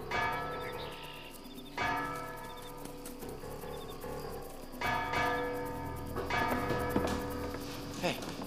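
A bell chimes repeatedly, with clear ringing strikes at intervals and tones that linger and fade, under quiet background sound in an indoor scene where people then talk.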